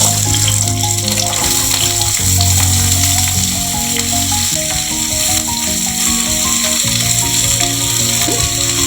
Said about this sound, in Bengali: এই সবজিগুলো এখন ভেজে নেব।